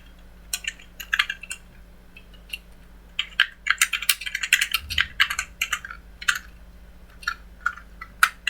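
Keys on a computer keyboard are typed in a Ubuntu terminal session, close and crisp, in irregular bursts of rapid clicks with a brief pause early on, and no voice.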